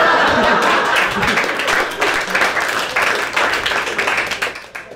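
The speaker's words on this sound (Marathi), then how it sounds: "एवढ्या टाळ्या एम्फॅटिकली वाजवायची गरज नव्हती." A standup comedy crowd bursts into loud, sustained applause mixed with some laughter, the clapping close and dense before tapering off toward the end.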